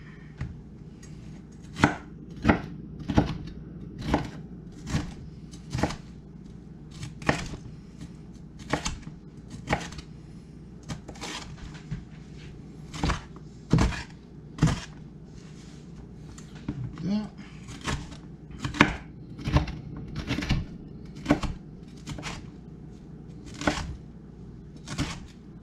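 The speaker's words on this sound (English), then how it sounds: "goes a little chop like that" Peppers chopped with a knife for chili, a steady run of sharp, close knocks on a board repeating every second or so, with a low background hum beneath.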